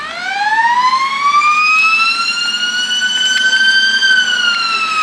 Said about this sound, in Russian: Полицейская сирена военной полиции